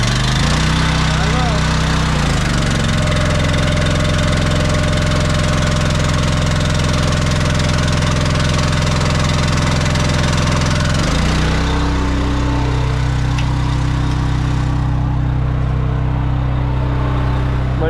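Farm tractor used for peanut planting, its engine running loud and close with a steady low rumble, the tone shifting partway through before settling into an idle.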